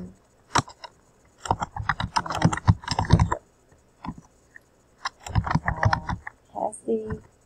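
Typing on a computer keyboard into a spreadsheet cell, heard as bursts of quick, close key clicks that come in two clusters with short pauses between them.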